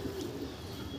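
Andhra Kalanka pigeons in a loft coo softly in a brief low murmur, close by with no talk.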